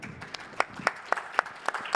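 Audience applause at the close of a session at a circular-economy event: sparse, distinct hand claps in a fairly steady rhythm, moderately near, with no swelling crowd roar.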